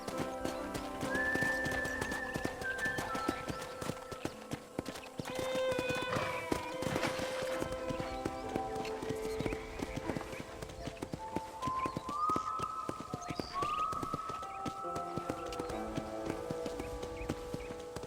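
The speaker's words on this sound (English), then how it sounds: "let's see if you can still ride a horse" Horse hooves clip-clop and gallop in a rhythmic beat in the Red Dead Redemption video game, with whinnies and neighs rising over the hoofbeats and a brief voice partway through.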